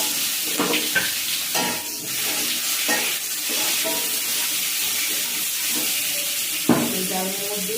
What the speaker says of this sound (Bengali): আমি এখানে পেঁপেগুলো ভেজে নেব